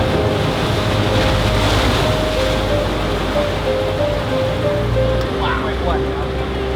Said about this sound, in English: Hiding in the cave, hiding from the waves right now, kind of big